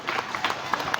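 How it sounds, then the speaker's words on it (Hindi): Brief burst of crowd clapping at a neighbourhood children's sports event, several people applauding together, mid-distance and moderately loud, with a voice faintly underneath. "तो जोरदार तालियां बजाते रहिए"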